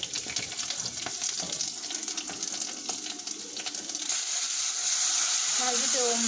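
Garlic sizzling in butter with onion and bell pepper in a pan, a steady frying hiss that grows louder and denser partway through, with a voice speaking briefly over it.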